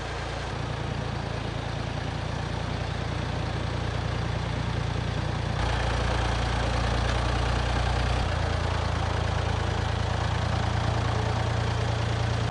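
A tractor engine at low idle hums steadily and close, a continuous low rumble with faint knocking texture and a slight shift in pitch partway through, with no talk over it.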